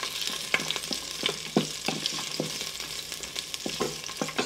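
Ginger, garlic and chilies frying in a pan give a continuous close sizzle, with repeated scraping stirs of a utensil against the pan at an uneven rhythm.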